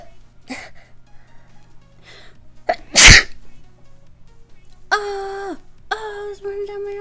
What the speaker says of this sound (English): that'll be in another person's sneeze video compilation